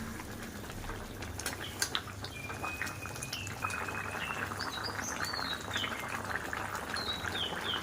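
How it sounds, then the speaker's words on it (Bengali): Fish curry broth bubbling in a pan, a steady soft boiling and simmering hiss with small pops, heard alone without talk. "ঝোলটা ফুটতে শুরু করলে এবারে আমি 5 মিনিট ঢাকা দিয়ে দেব"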